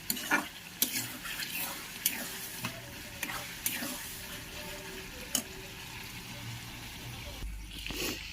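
Chicken skin frying in a shallow layer of oil gives a steady, fairly quiet sizzle, broken by a few sharp spatters and scrapes of a spoon stirring in the pan.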